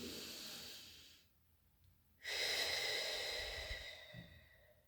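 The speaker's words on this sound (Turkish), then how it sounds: "Şimdi bir derin nefes alın." A single deep breath taken during a guided meditation, a long airy inhale-like hiss, a brief pause, then a longer steady exhale, close and soft with no talking.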